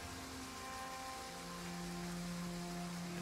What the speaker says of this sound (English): It's raining. Well, rain sounds great.